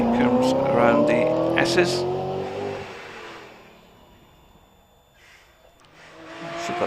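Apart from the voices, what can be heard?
Aston Martin Vantage V8 4.3 litre racing at hillclimb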